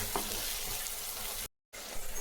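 Ginger and garlic sautéing in ghee for vegetable rice, a bright hissing sizzle that stays steady and close, cut by a brief total silence before resuming.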